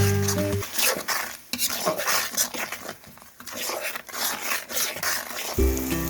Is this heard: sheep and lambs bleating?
no